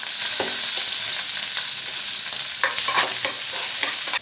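Onions frying in hot ghee in a pan for mutton ghee roast, a steady dense sizzle with scraping stir strokes throughout, close and loud, no talking.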